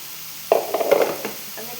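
Roasted rice flour is stirred in a pan, a brief close scrape-and-rustle of a spoon lasting about a second, with a light sizzle beneath it and quiet stillness on either side.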